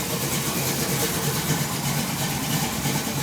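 A 1980 Chevrolet C10 engine fitted with a Comp Cams Thumpr cam and flat tappet lifters idles steadily, a low, even rumble with a slight lope, close by and moderately loud with no talk.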